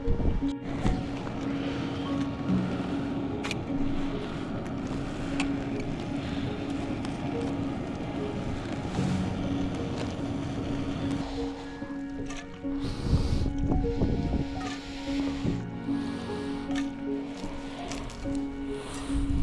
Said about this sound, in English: it's windy as hell and the misty, it's like misty wet